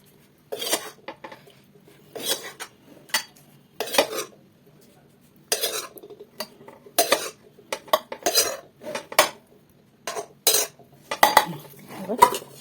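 A metal spoon scrapes and clatters against a chicken biryani pot as rice is added, in scattered bursts of clinks and scrapes separated by short quiet gaps, close by.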